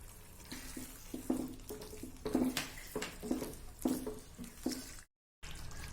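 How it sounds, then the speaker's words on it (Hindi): Water pours into a pan of bhuna gosht cooking on the stove, a steady close splashing with uneven gurgles and bursts, quiet overall and briefly cutting out near the end. "डेढ़ कप हमने पानी डाला है"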